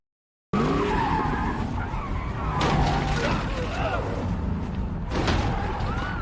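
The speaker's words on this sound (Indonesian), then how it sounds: "terjadi kejar-kejaran antara mobil mereka dan mobil van hijau yang ada di belakang mereka" A film car chase between a car and a green van: after a moment of silence, tires squeal and skid loudly and repeatedly over roaring engines, with sharp bursts of skidding standing out near and intense.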